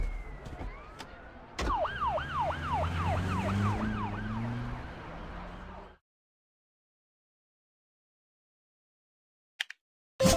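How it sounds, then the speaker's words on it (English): A video game police car siren wails, sweeping up and down rapidly for several seconds over engine rumble, then cuts off into silence before a couple of brief clicks. "Police car."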